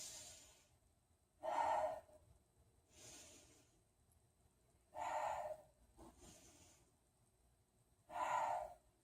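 Three slow, deep breaths taken while holding a warrior pose in a beginner yoga session, each a broad airy exhale of about a second, spaced evenly apart against a quiet room.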